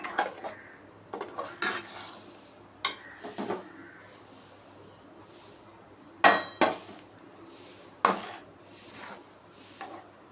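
Tomato jam cooking with sugar in a pan, stirred to a thick halwa-like consistency, with a spoon knocking and scraping against the metal in irregular clinks, some sharp and close, over a quiet background.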